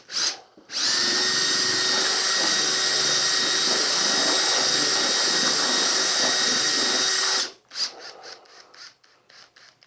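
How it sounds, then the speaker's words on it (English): A power drill fitted with a mixer blade stirs Tarkett 946 contact adhesive, running as a loud steady whine for about seven seconds before cutting off and followed by a few short scrapes. "All you do is take a drill and add some shear to it."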